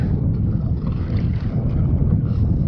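Strong wind buffets the microphone while kayaking on open water during trolling for fish, a loud, continuous rumbling roar close by with no talking.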